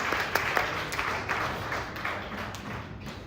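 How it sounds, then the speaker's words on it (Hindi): Loud, steady applause from an audience at a Jain religious play about Maina Sundari, continuous hand-clapping with a few sharper claps standing out. "एक बार जोरदार तालियां हो जाए"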